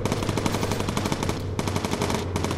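Enemy biplanes fire rapid, continuous machine-gun bursts in the Bomber Crew video game, loud and close, with a brief pause partway through.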